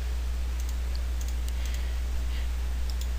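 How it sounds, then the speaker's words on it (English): A computer mouse clicks while working in Adobe After Effects: a few soft, sparse clicks sit faintly over a steady low electrical hum, with no talking. "you're going to click right on it"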